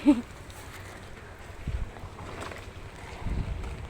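Gusty wind buffets the microphone in low rumbling bursts, with a quieter steady whoosh of air between the stronger gusts.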